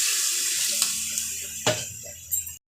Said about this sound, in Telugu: చూడండి నీళ్ళు వేసింది మా అమ్మ